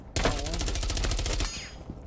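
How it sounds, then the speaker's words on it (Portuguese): Rapid automatic gunfire in Rainbow Six Siege bursts in suddenly and rattles as a dense, fast stream of shots for over a second before tailing off, loud and close, with game ambience behind. "tô levando tiro aqui"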